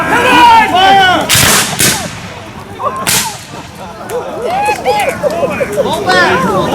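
A Civil War reenactment volley rings out on command: sharp, loud musket or cannon blasts crack out in a couple of bursts, surrounded by shouted orders, cheering and children's voices at an outdoor Civil War weekend at the Grange.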